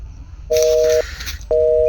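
A phone line returns a busy signal: two loud, steady electronic tones, each lasting about half a second and separated by a short gap, heard up close through the handset.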